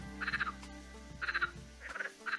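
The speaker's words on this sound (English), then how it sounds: "I imagine a very cheeky small little frog." A small frog croaks in short rasping bursts, three or four pulses per call, repeating about every second against a low steady hum, close and clear with no talking.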